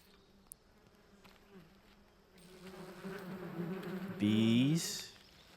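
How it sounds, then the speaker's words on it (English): Bees buzz in a video game, a low droning hum that builds steadily and swells into a loud close pass before fading near the end. "Bees."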